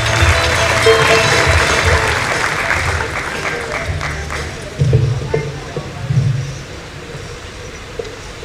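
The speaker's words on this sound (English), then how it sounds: "Can we have a big round of applause for the girl?" An audience at a felicitation ceremony for a top exam achiever claps loudly and steadily, the applause holding for several seconds before tapering off with a few scattered claps.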